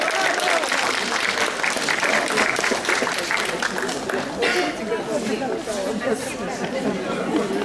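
Loud, dense applause from an audience at a Russian historical ballroom dance festival, rising for the participants and sustained throughout with crowd chatter and voices mixed in.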